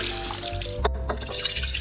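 Frozen beans rinsed under a running tap, with a steady broadband splash of water pouring over them and a few brief clinks throughout, no voices.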